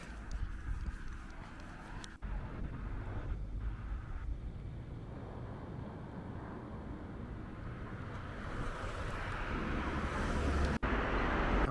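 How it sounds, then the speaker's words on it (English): Heavy quarry lorries pass along a village road near Southwick, Wiltshire: a low rumbling roar of traffic that builds steadily and grows louder toward the end as a vehicle approaches, with no talking. "Many of the trucks from the quarries around Frome will come down through this road to bypass Trowbridge"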